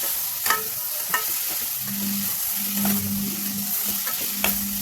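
Tomatoes and onion fry in a pan for tomato chutney while a spoon stirs them, giving a steady sizzle broken by scraping strokes and small clicks against the pan, close and continuous.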